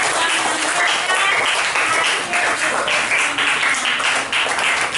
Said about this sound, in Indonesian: Tepuk tangan untuk kelompok nakoda